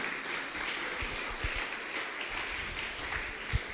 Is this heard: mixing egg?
no